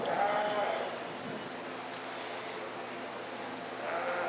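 Sheep bleat repeatedly in a busy show barn during a 4-H sheep show, a loud cry at the start and another near the end over constant crowd murmur and background talk.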